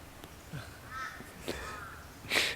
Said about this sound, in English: there's so many crows here, and poor Nigel, he doesn't like crows